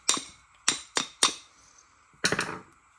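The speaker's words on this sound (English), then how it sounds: "Take the end of a screwdriver and just give it a tap." Metal screwdriver end taps sharply against the carburetor float bowl of a Honda Rancher 350 ATV: four crisp knocks, a pause, then a quick cluster of three, close and clear with no talking.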